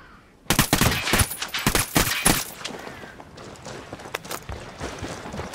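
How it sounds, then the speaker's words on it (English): Gunfire in the video game Ghost Recon Wildlands: a sudden rapid burst of loud, close shots for about two seconds, then a few scattered sharp shots over fainter background noise. "Opening fire on these fuckers."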